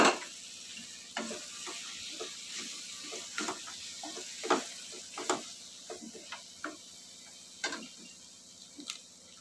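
Paneer is stirred into a masala in a pan with sharp, irregular spoon clicks and scrapes over a faint, quiet sizzle, heard close and without voices.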